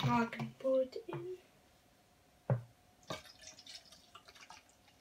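A voice speaks briefly at the start, then Vimto mixed with a fizzy drink is poured into a cup, heard as faint, quiet dripping and trickling splashes in a small indoor room.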